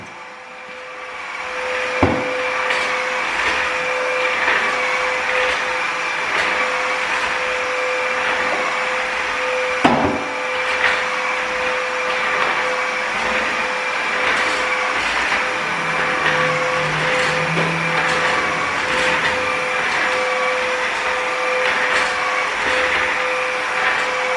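A new household vacuum cleaner runs continuously for a long stretch, drawing up cocoa powder from the floor with a loud steady whine, a few knocks and shifts in pitch as it moves, no speech.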